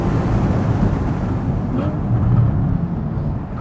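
A 2013 Porsche Boxster S driven hard around a track lap gives a loud, continuous engine roar from inside the car, swelling slightly as it pulls through the corner.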